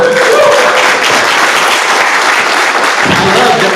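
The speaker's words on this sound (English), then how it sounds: "Give them one more round of applause." Audience applause at a real estate event panel on self-love, a loud, dense, continuous wash of clapping heard close for several seconds without pause.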